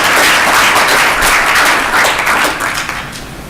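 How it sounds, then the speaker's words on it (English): Attendees at the closing session of a two-day conference clap for themselves, producing a loud, full burst of applause that holds strongly, then thins and fades over the last second. "Will you clap for yourselves for having been able to do that?"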